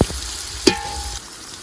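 Green chilies, carrot and tomatoes fry in a pan for pulao, giving a close, steady sizzling hiss with a sharp clink of a spoon against the pan partway through.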